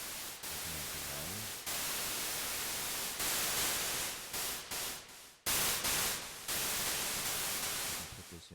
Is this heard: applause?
no